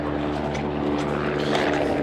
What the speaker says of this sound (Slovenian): zdaj, helikopterji vozijo robo